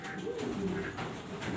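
Breeding pigeons, a male and a female sitting on her eggs, coo softly in a low, rolling murmur that runs steadily throughout.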